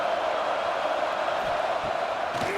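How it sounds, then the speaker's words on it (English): Stadium crowd in College Football 26 at a USC Trojans versus Oregon Ducks game, a steady dense roar of many distant voices filling the whole stretch with no single voice standing out. "Listen to the crowd energy here in the early going."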